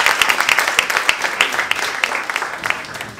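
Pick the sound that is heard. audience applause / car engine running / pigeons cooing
audience applause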